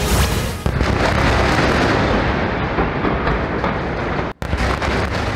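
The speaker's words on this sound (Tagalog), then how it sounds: "Nabulabog ng sunod-sunod na pagsabog ang mga sibilyan sa Gaza kasunod ng magdamagang airstrike ng Israel kahapon." Heavy explosions from Israeli airstrikes in Gaza boom loudly and continuously, a dense roaring rumble of blasts with a brief cut near the end.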